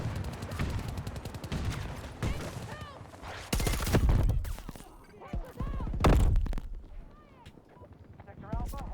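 Battlefield 2042 gunfire, with rapid bursts of automatic shots and heavy thuds in several volleys, loud and close, while someone talks over the action.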